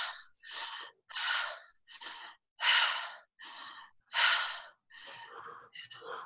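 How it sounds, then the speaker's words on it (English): Connected breathing with no pause between inhale and exhale: a person takes loud, close, rapid breaths in a continuous rhythm, the gusty exhales relaxed and breathy, repeating about ten times. "there's no pauses between the inhale and exhale, and the exhale's completely relaxed"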